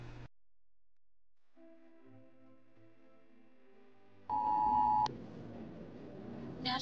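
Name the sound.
emergency alert tone on a mobile phone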